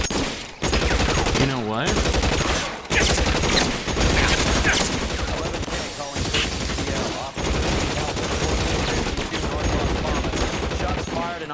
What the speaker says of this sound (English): Shots fired and officers need help at 1452 North Las Palmas.